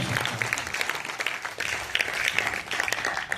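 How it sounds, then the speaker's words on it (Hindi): Audience at a comedy poetry show in a convention hall in Rajgir bursts into sustained applause, a dense, even patter of many hands at moderate volume with faint voices mixed in. "जिंदाबाद, जोरदार तालियां"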